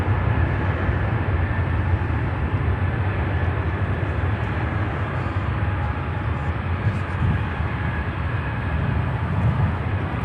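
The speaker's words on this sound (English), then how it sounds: "with a 787-8, a baby Dreamliner coming in from Rome" An American Airlines Boeing 787-8 Dreamliner lands at Chicago O'Hare, inbound from Rome, a steady, loud jet roar that holds unbroken through the whole stretch.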